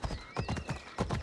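Phobos, a horse in Assassin's Creed Odyssey, gallops close by in quick, rhythmic hoofbeats. A brief whinny rings out over the thudding.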